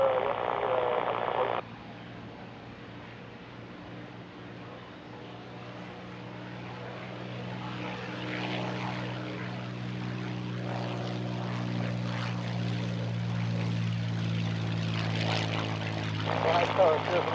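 A propeller airplane takes off at Van Nuys Airport, its engine drone rising in a steady, building roar that grows louder over the clip, with brief radio-style speech at the start and end.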